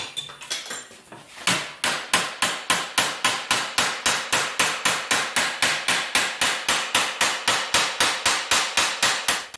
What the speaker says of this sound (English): I'm going to roll this, hammer this corner down so it's got a slighter edge on it